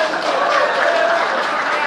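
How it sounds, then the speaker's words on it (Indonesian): An audience breaks into applause at a public talk, a short steady burst of crowd clapping with talk mixed in. "Mana tepuk tangannya?"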